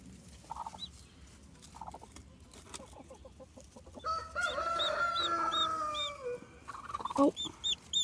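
A backyard hen makes soft clucks and then a louder drawn-out vocal call near a newborn baby chick, with thin high cheeps coming from the chick. No one talks.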